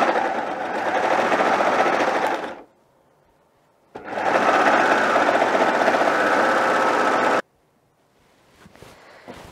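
A sewing machine runs two long, steady bursts while stitching a romper seam, a close, even whirring drone with a sudden stop after each. A short, fainter run starts at the end.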